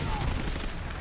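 Rapid gunfire in Call of Duty Black Ops 7 during an Esports World Cup group-stage match: a dense, crackling burst of shots runs continuously over game noise for about a second, fairly loud and close.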